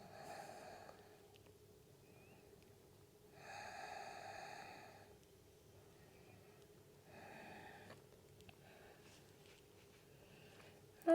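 During a slow sun salutation yoga session, a person takes three deep, audible breaths through the nose, each a soft airy rush spaced a few seconds apart, close and quiet against a faint steady hum.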